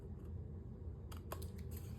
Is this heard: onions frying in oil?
no